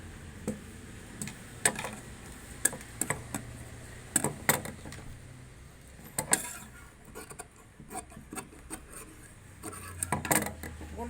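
Blouse fabric being cut for a high-neck blouse, with close scissor snips and rubbing, scraping handling noises coming in irregular clusters, quiet and without talk.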